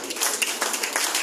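Audience at a Ghana press conference clapping hands in a brief, dense burst of applause, steady and fairly close throughout.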